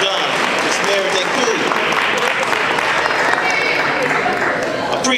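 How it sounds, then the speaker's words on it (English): An audience at a university Black History Bowl quiz event applauds workers in a steady, full round of clapping, with a voice speaking over the applause. "Let's give them a hand clap of applause for a job well done"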